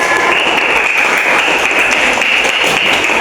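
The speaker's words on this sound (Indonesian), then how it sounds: "Beri tepuk tangan dulu untuk kelompok takwa." Third-grade class at an Islamic religious education lesson applauding a student group, a continuous bright patter of many small hands clapping close and loud throughout.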